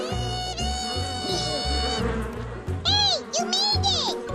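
Cartoon bees buzzing around a beehive, a steady insect drone layered with music and bright whistling tones, fairly loud throughout.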